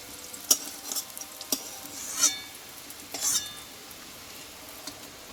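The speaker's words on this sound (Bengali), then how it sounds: "অল্প তেলে কিন্তু এগুলো ভাজা হয়ে যাবে" Jackfruit seeds frying in a little oil in a pan give a faint, quiet sizzle. Sparse, light clinks and scrapes of stirring sound now and then.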